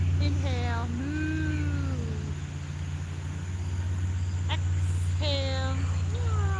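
A person imitating a cat's meow during a live yoga class's cat pose: several drawn-out, rising and falling meows, loud and close, over a steady low hum.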